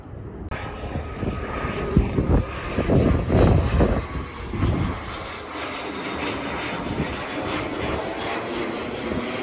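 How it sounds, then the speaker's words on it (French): Patrol airplanes heading out to sea to check ships for illegal fuel discharge, a steady roaring engine drone that swells loudest mid-pass and then holds as a sustained hum, with no talk. "Ça c'est les avions qui vont au large pour voir si les bateaux ils dégazent pas."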